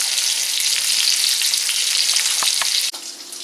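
Pork chops deep frying in hot oil, a loud, dense, continuous crackling sizzle close up, with a few faint clicks near the end as the frying level drops slightly.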